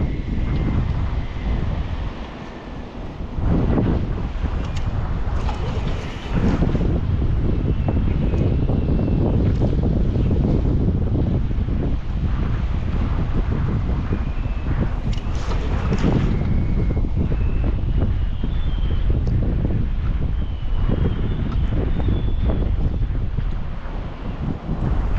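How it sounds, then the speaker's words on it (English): Strong gusting wind buffets the microphone beside a river while trout fishing, a continuous heavy low rumble with surging blasts that swamps everything else. "I apologize again about that wind"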